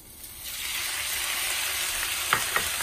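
Chicken pieces fry in a pan with a steady, close sizzle that builds after a moment, and two sharp scrapes of stirring come near the end.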